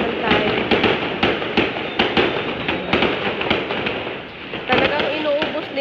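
Strings of firecrackers crackle and bang through the final day of Chinese New Year, a rapid irregular rattle of sharp pops with louder bursts, close by and continuous, while a person talks underneath.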